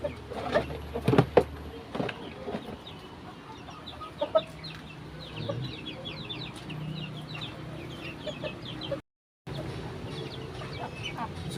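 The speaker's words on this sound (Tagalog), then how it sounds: "So magpakaon na ta sa atong" Pet chickens cluck and chatter at feeding time, with many short, overlapping clucks and a few sharper calls close by. Brief handling clatter breaks in near the start, and the sound cuts out for a moment near the end.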